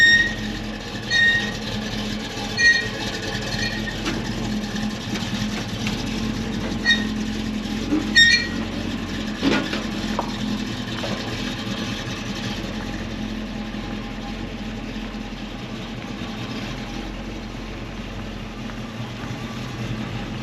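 A 1964 Chevelle engine on a ramp with an accelerator pump problem idles with a low rumble, and brief throttle blips make its revs swell in a few short bursts.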